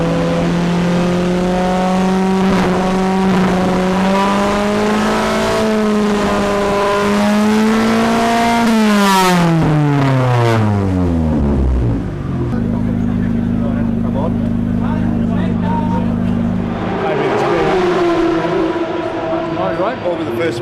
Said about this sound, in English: The engine won't rev properly.